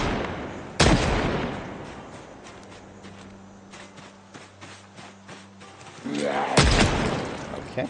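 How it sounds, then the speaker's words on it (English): Two loud gunshots in the zombie survival game Project Zomboid, fired at zombies several seconds apart, each a sharp close crack with a short tail against quiet in-game ambience and low tones. "Okay, interesting on the ragdoll physics with the gunshots there."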